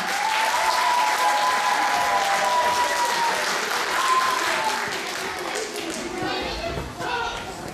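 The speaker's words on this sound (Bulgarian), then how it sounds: "Моля, аплодисменти за нашите гости от Стряма!" Sustained applause from an outdoor crowd greets guests from Stryama at the opening of a kukeri festival in Rakovski, dense and steady, with a voice and faint bell-like tones over it before it thins out.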